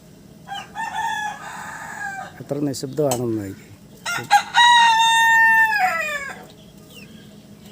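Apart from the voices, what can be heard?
chickens clucking and crowing inside a chicken coop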